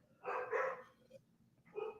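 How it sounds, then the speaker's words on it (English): Indoor dogs, set off by a doorbell ring, let out two quick bursts of loud, close barking separated by a short pause. "the dogs will stop barking at some point"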